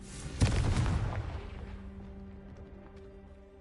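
A Confringo blasting spell in a video game goes off as a single deep boom that rumbles and fades slowly, leaving a faint low hum.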